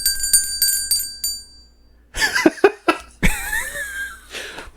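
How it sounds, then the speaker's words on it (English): A hand bell rung several times in quick succession, clear bright ringing strikes up close with decaying tones, followed by loud laughter, coughing and voices in a lively studio show setting. "So when I ring this bell,"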